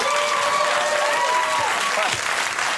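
A studio audience on a late-night talk show breaks into steady, loud applause that carries on throughout, with a few whistles rising above the clapping.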